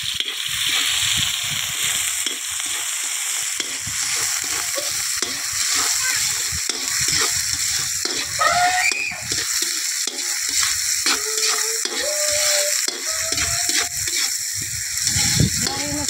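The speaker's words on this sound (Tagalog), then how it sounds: "Gisa na rin tayo ng sibuyas." Onion and garlic sauté in hot oil for spaghetti, a continuous loud sizzle with a spatula stirring and scraping against the pan, and brief faint voices in the background.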